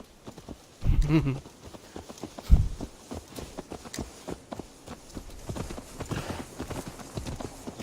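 Horse hooves clip-clop steadily in Assassin's Creed Valhalla, a rhythmic walking gait with a couple of heavier thuds early on, close and clear, with no talking over it.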